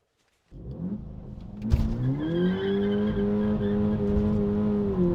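A 2024 Volkswagen Polo GTI 147kW hot hatch accelerates hard at full power in second gear, its engine note climbing steadily from a sudden start and holding loud and close, heard from inside the car with no talking.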